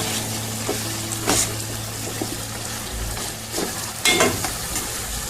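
Chicken coated in tikka powder sizzles and fries in a pan, a steady hiss broken by a few louder scraping stirs, close and continuous with no talking.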